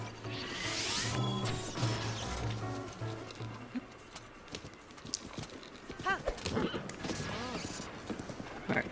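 Horse hooves clip-clop in Zelda: Breath of the Wild, a rhythmic galloping patter under game sounds, with a whinny and a person talking at points.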